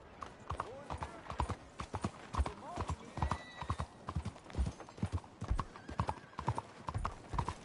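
Rapid clip-clop of horse hooves in Red Dead Redemption 2, a steady galloping rhythm running throughout, close and fairly loud, with voices speaking over it and a brief whinny mixed in.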